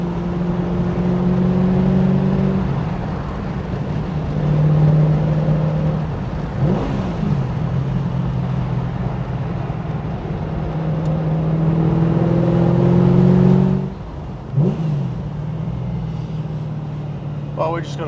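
A 1989 Aston Martin V8 Vantage Volante X-Pack with a 7.0-liter big-bore V8 drives along, its steady engine drone rising and falling through gear changes beneath continuous talk from inside the car.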